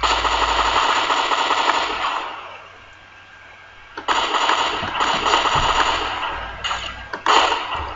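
Rapid bursts of video game gunfire crackle loudly over a rumbling engine-like drone, pausing briefly midway before resuming in choppy volleys.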